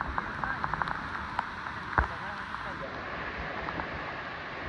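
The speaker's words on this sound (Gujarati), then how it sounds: "કલાકથી ચાલુ છે વરસાદ" Steady rain falls at Mangal waterfall in a remote valley village, a soft continuous patter with scattered drips and taps close by and the distant wash of water.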